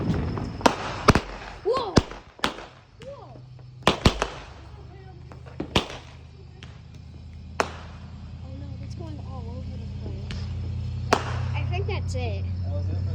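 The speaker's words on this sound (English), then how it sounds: "Oh, fireworks are happening!" Fourth of July fireworks go off in a series of sharp, irregular bangs and cracks, some near and loud, others fainter, while people nearby exclaim and chat between the blasts.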